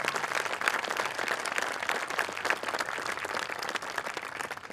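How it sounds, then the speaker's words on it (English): A graduation crowd applauds for its class advisors at a high school commencement, with dense, steady clapping that holds strong from start to finish and no speech over it. "I also want all of us to have a round of applause for our current class advisors, Ms. Benassi and Mr."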